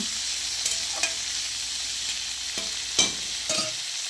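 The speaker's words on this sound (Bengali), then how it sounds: "তেজপাতা জিরে লঙ্কা টমেটো এগুলো দিয়ে কুচি ভাজা করব" Vegetable strips frying with bay leaf, cumin, chili and tomato in a pan, giving a steady sizzle with a few scraping stirs and clinks, close and continuous with no talk.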